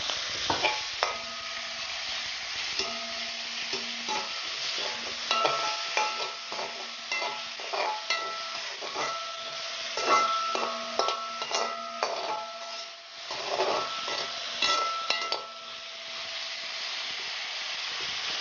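Curry leaves, salt and chopped ingredients hit a pan of fried mustard seeds for dosa filling, with a steady sizzle, hissing steam and repeated scraping and clinking of a spoon stirring against the pan.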